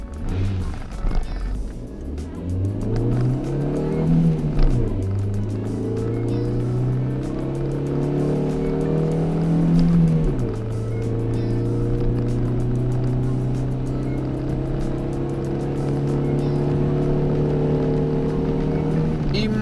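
Dacia Lodgy accelerating from a standstill to 90 km/h, the engine rising in pitch through each gear, then dropping at the shifts around five and ten seconds, heard steadily from inside the cabin with some talk.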